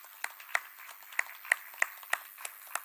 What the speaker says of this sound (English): So with a round of applause, I would like us to appreciate and welcome on stage Mr. Alphonse Ochola.